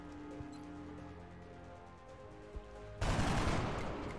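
A sudden loud burst of gunfire erupts near the end of a quiet stretch in the turn-based game XCOM: Enemy Within, a dense rattling volley following a single faint thud.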